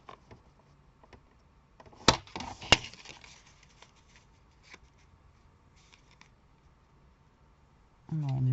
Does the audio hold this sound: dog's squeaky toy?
no